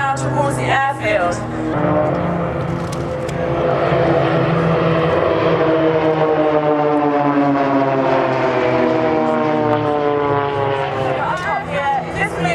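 A propeller aircraft at an airshow snap-rolls back toward the airfield, its engine drone rising and falling steadily with shifting pitch, loud and close, while a commentator talks over it.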